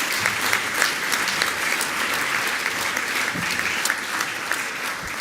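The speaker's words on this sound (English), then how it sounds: "Then let's give those graders a round of applause." At a school speech day prize-giving, the audience gives prize winners a steady round of applause, dense continuous clapping at an even, fairly loud level throughout with no talk over it.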